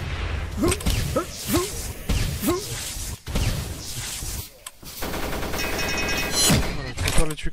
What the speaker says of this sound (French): je me fais tirer dessus mais je sais pas d'où ça sort